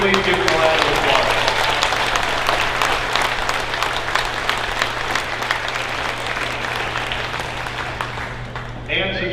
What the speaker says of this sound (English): can we please give them a round of applause?